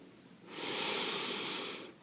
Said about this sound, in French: vous inspirerez en gonflant votre ventre